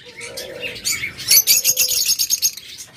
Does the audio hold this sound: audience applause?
no